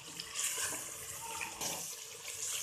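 Water splashes and pours steadily onto spices for beef haleem, a continuous wet gush with no talking.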